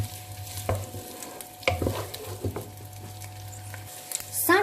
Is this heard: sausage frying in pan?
yes